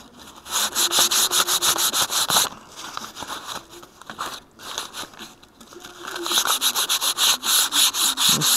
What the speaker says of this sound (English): and sand this down